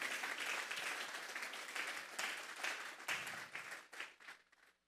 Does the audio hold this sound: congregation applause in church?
yes